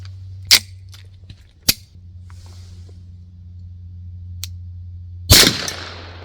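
Suppressed Beretta 92 pistol fires several sharp, muffled cracks, with two close shots early and a louder one near the end, over a low steady hum.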